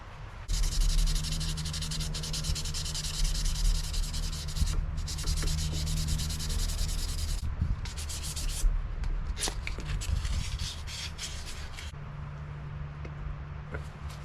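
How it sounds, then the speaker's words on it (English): Steady, close hand sanding of a knife made from chainsaw chain, using 800 grit sandpaper: continuous raspy back-and-forth strokes that run almost without a break, loud and alone. "I'll hand sand this one at 800 degrees."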